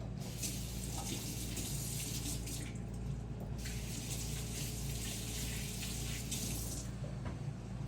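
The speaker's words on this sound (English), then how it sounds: "I'm gonna wash my hands real quick" Tap water runs steadily into a kitchen sink as hands are washed, a continuous close hiss and splash with slight shifts as the hands move under the stream, and no talking.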